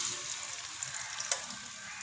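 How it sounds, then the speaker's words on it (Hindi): Onions sizzle and crackle steadily in half a cup of oil in a kadai, a soft continuous frying hiss with occasional small pops. "ऑयल में मैं प्याज ऐड करूँगी।"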